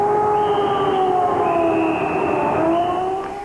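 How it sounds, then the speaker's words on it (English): Air raid sirens being tested in Iraq wail loud and steady, several sustained tones layered over one another, slowly bending in pitch and starting to fade near the end. "Tonight, ominously, they were testing the air raid sirens here."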